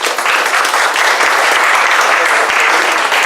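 Loud, dense applause from a crowd, steady clapping filling the whole stretch without letting up.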